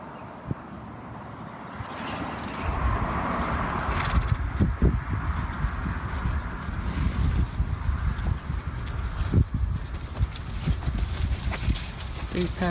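Horse hooves clip-clop in a steady walking rhythm as a young colt is trained on an obstacle course, with light wind noise and faint background voices.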